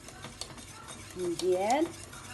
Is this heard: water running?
no